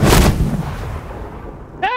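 Loud burst of gunfire from Moscow's gun-armed troops in the strategy game Age of Empires 4, a heavy blast up front that rumbles and fades, followed by a brief voice at the very end.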